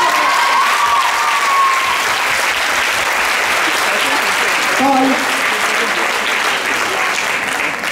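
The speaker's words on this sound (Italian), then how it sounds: "grande applauso." A theatre audience applauds after a school stage performance, loud steady clapping filling the hall while a voice speaks briefly over it.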